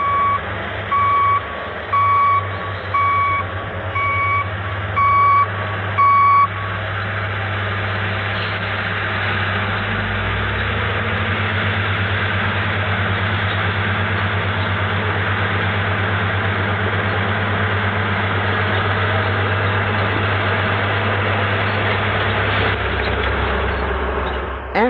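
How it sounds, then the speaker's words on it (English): Dump trucks shuttle back and forth hauling dirt at a road construction site, a steady loud diesel drone with a heavy low rumble and a repeated reversing beeper near the start. "These powerful dump trucks move back and forth, loading and unloading dirt as the path of the road develops."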